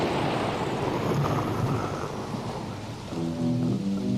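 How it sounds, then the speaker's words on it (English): Rain and rolling thunder sound effect opening a song, a steady loud downpour with deep rumbling, joined near the end by sustained electric piano tones. "I've got super rain and thunder."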